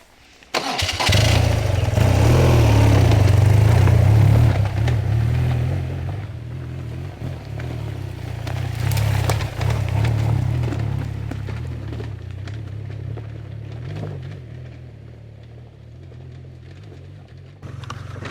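A BMW R12 G/S motorcycle revs hard climbing a steep chute of rocks and boulders, its engine roaring loud and close at first, then bogging and surging unevenly as it fades with distance.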